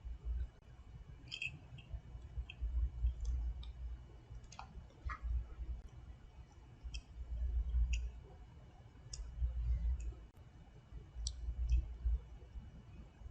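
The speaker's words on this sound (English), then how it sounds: "we can continue clicking on packets within the level to check that their data is valid" Computer mouse clicking on network packets in a game level: scattered faint, crisp clicks at irregular intervals over a low steady background hum, no talking.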